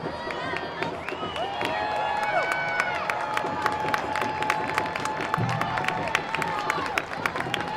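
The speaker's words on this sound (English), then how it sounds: "Clap from the crowd." Crowd at a Rising football match, a steady roar of applause and cheering with sharp claps scattered throughout, loud and continuous across the whole stretch.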